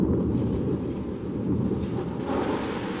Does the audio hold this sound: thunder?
yes